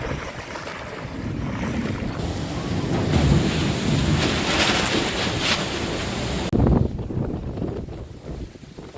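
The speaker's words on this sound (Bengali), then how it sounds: "আকাশ কালো হয়ে গেছে আর ঝোড়ো হাওয়া হচ্ছে" Strong gusty storm wind roars steadily in the Sundarbans under a darkened sky, buffeting loudly with surges and rumbling, like a storm blowing across open water; no voices.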